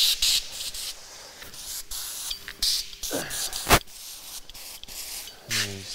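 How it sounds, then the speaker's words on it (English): A hand spray bottle mists bulk mushroom substrate in short bursts of hissing spray, separated by brief pauses, with rubbing and handling noises and a few faint voices nearby. "Just a bit of a general spray down."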